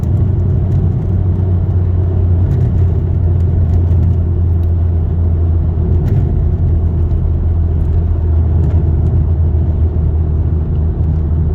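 A Volkswagen GTI MkV accelerates under turbo boost while driving at night during engine break-in, a loud, steady low engine rumble and drone with a faint whir above, heard from inside the car with no talk.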